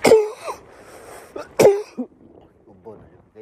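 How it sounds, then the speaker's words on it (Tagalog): Two harsh, close coughs from a man ring out about a second and a half apart, with a voice talking quietly between and after them. "Ubo na yun"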